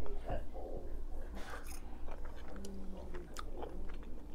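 Tuna puttanesca with capers and olives being chewed up close, soft wet bites and crunchy mastication repeating over about four seconds with faint breathy sounds in between.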